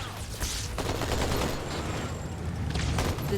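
Dense, sustained gunfire from the video game Halo 2, with rapid overlapping shots and booming bursts filling the whole stretch at a steady, loud level, with no talking.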